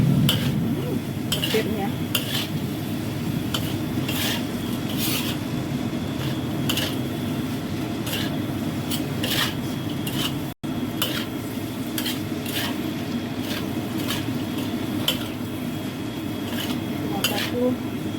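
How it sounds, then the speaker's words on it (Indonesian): Tempeh and anchovies being stir-fried in a pan, with a steady low sizzle under repeated metallic scrapes and clinks of a utensil stirring against the pan, while a person talks briefly. "Ditumis-tumis, aduk-aduk."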